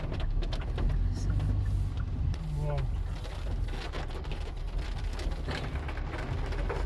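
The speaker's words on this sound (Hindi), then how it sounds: "बारिश ही काफी हो रही है" Heavy rain falls steadily during a road trip stop at a property near Chikmagalur, a dense continuous hiss with voices talking over it.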